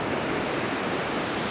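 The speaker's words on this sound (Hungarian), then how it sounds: "És nézzétek meg, hogy milyen vad a tenger is." Wild off-season sea at Cinque Terre on the Italian coast, with rough waves crashing in a steady, dense roar mixed with wind, loud and continuous with no voices.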